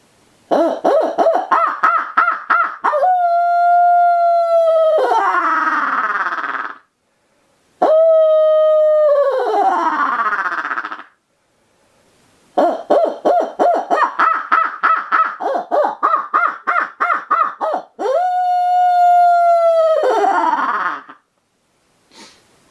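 Owl hoots imitated on a turkey locator call, loud and close: rhythmic chopped hooting runs ending in long drawn-out wavering calls, like a couple of owls yakking at each other, repeated in several bursts with short gaps.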